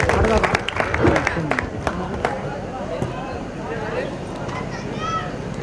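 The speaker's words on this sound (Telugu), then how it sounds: "జయరాజ్ అన్నకు మన ఊరు నుంచి ఒకసారి గట్టిగా చప్పట్లు కొట్టి స్వాగతం తెలియజేద్దాం" Crowd applause at a public meeting for the unveiling of a Dr. B.R. Ambedkar statue, welcoming the poet Jayaraj, with loud clapping at first that thins out. Someone speaks over it throughout.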